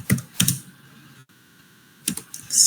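Fingers clatter on a computer keyboard in two short bursts of keystrokes with a quiet pause between them, fairly close and without voices.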